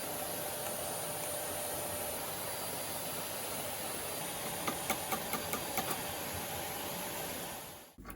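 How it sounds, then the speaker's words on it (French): A vacuum cleaner cleans dust out of an old 2001 Packard Bell computer case, giving a loud, steady, close roaring whoosh with a few small knocks partway through. The motor switches off abruptly near the end. "Commençons par passer un petit coup d'aspirateur."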